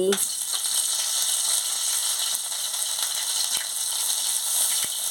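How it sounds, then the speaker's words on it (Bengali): Ground ginger, chili and turmeric paste sizzles steadily in hot oil while being fried down for a soybean chachchari, a dense continuous hiss with a faint clink near the start. "দিয়ে মশলাটাকে ভালো করে কষিয়ে নিচ্ছি"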